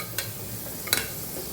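Garlic cloves sizzle faintly in hot oil during tempering for a Kathiyawadi tanjariya leaf curry, giving a soft continuous hiss broken by two sharp clicks of stirring.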